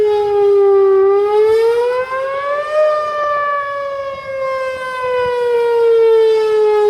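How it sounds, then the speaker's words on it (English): A rotating outdoor tornado warning siren wails during a test in Jessamine County, its loud tone rising and then slowly falling as the horn turns, steady and alone without voices. "The intention of these sirens are an outdoor warning siren."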